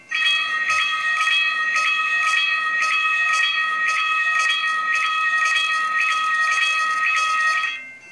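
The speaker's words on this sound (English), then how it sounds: "And this is what the bell sounds like." A tram bell in the Trainz 12 game rings in a fast, steady repeating clang for about eight seconds, bright and loud, heard alone with no talking.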